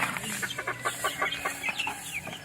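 Three-month-old backyard chickens cluck in a steady run of short, close calls over a constant farmyard background, with no one talking.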